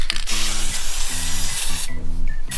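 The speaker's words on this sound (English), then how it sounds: "Use a form of spray" A loud, steady hiss of an aerosol spray running continuously into a snowmobile fuel tank area, with a mechanical hum and tonal whine underneath, close up.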